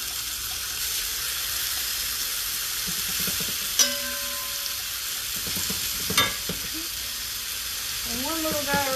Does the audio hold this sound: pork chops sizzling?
yes